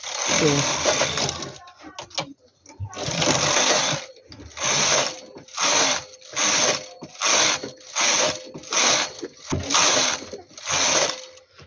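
A domestic knitting machine knitting rib rows at tension 7, the carriage sliding back and forth in steady ratcheting passes, about nine loud, close mechanical sweeps with short pauses between them.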